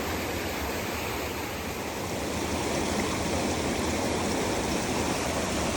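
A stream of water near Berchtesgaden rushes steadily and loudly close by, a continuous dense wash of flowing water with no breaks or voices.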